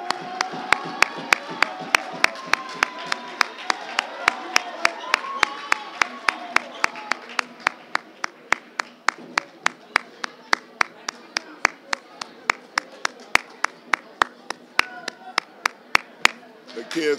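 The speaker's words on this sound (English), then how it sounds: "As the Granite City fans give him a round of applause." Granite City fans at an IHSA regional high school basketball game against Edwardsville applaud their coach, rhythmic claps ringing out steadily over a busy gym crowd while a commentator talks throughout.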